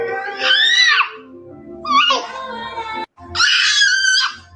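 A young boy screaming in loud, high-pitched bursts, three long shrieks separated by short pauses, close and raw with a wailing, crying edge.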